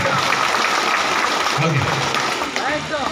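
A crowd at a BJP community feast gathering applauds the organisers, a sustained rattle of clapping mixed with voices talking over it throughout.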